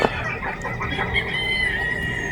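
A rooster sounds close by, with clucking and a harsh crowing call over steady background noise, heard alone without any talking.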